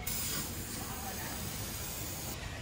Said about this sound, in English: 8 to 10 inches, you have to spray it.